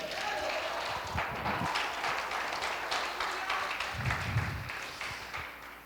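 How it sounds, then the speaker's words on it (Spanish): Congregation applauding at a church worship service, a dense, steady wash of many hands clapping that fills the whole stretch at moderate loudness and fades slightly at the end. "Dale un aplauso al Señor."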